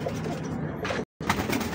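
Golden pigeons coo close by in soft, throaty, rolling calls that run almost continuously, broken by one brief gap.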